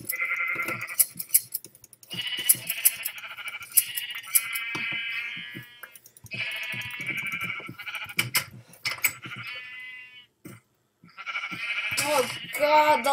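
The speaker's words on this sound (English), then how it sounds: "And then I set up this cute little sheep farm" Sheep bleating around a small sheep farm in a blocky sandbox video game, repeated wavering bleats in clustered bursts from several animals, fairly loud and close with brief quiet gaps between calls.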